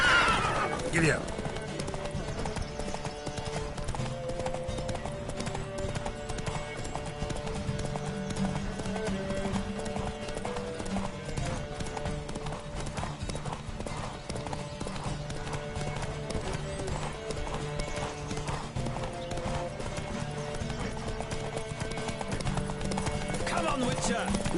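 A horse gallops hard in a race in the video game Witcher 3, with steady clip-clop hoofbeats under game music and voices, and occasional whinnies.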